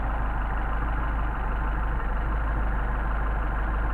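Engine with a Solex carburetor idles low at roughly 500 RPM, a loud, close, steady rumble with an even low throb and no other sounds.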